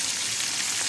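Sheela fish frying in a hot pan gives a continuous, even, close sizzle with no talking, holding steady from start to end.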